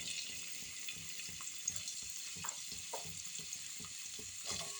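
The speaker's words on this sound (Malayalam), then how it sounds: "അവിയലിനായി നമുക്ക് ഓരോ കഷ്ണങ്ങളും ചൂടായ എണ്ണയിലേക്കിട്ട് വഴട്ടാം" Vegetable pieces for Kerala avial, carrot, brinjal and drumstick, sauté in hot oil with a steady soft sizzle, punctuated by light stirring clinks and scrapes throughout, no voices.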